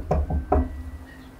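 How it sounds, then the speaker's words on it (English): Three dull knocks on a train boxcar door in The Vanishing of Ethan Carter video game, two quick raps then a third, close and woody, followed by a low ambient hum. "Knock, knock."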